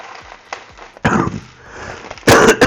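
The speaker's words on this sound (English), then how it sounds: "excuse me, sorry for coughing" Coughing from a person working on a LEGO Leonardo da Vinci flying machine build, two loud harsh bursts close by, separated by quieter handling noises.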